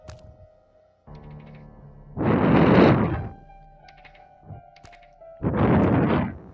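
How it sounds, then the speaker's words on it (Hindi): Two heavy, muffled thumping bursts stand out over a quiet game soundscape, like footsteps close by, separated by a few seconds with faint clicks between. "भाई फुटस्टेप की आवाज आ रही थी।"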